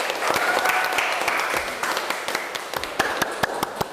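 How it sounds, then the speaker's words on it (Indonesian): Classroom applause from students after a presentation, steady moderate clapping with sharp individual claps standing out near the end. "Tepuk tangan buat kita semua."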